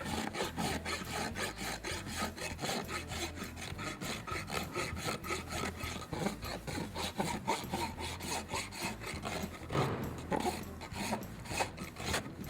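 A farrier's rasp files a horse's hoof in quick, even back-and-forth strokes, a dry rhythmic scraping heard close and alone.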